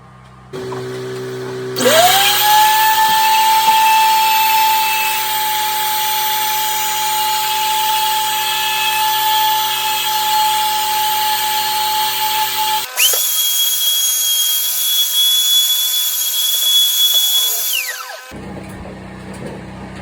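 A router fitted with a 1/2-inch cutter bit and guide, cutting an interior door template: a loud, steady high whine held for about ten seconds, then shifting to a higher pitch before stopping.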